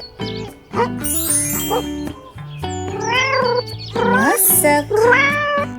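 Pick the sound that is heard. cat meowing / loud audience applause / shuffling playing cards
cat meowing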